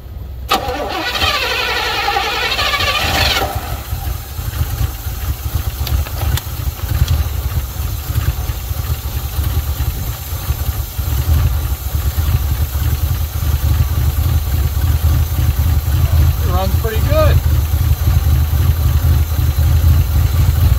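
A 1980 Pontiac Trans Am Turbo, revived after sitting eighteen years, cranks with a whirring starter, catches, and settles into a loud, rumbling, slightly uneven idle heard up close.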